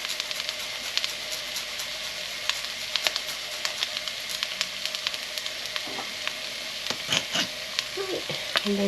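Garlic frying in a hot pan for a Chinese chicken and butternut squash curry, a steady close sizzle with scattered pops and crackles while it is stirred, no voices.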